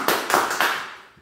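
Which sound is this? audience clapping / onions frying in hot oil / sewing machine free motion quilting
audience clapping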